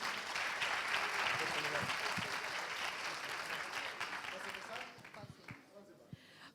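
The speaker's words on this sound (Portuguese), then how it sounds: "uma salva de palmas para a Anabela Chastres." An audience at a trainers' event applauds a speaker as she is welcomed to the stage, steady crowd clapping that tapers off into scattered claps and quiet room noise.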